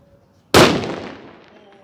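A sky shot firework goes off with a single sharp, loud bang that rings out and fades over about a second, with near silence just before.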